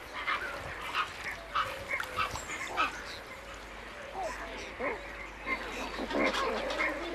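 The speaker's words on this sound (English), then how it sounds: "enormous breeding colonies of pelicans, some containing hundreds of pairs" Pelicans call from a large wetland breeding colony among reed beds and water channels, a steady scatter of grunting and honking calls at moderate distance.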